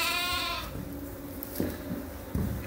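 Lambs bleat in a pen on a sheep farm, one clear wavering cry up close at the start followed by softer, shorter bleats and shuffling nearby.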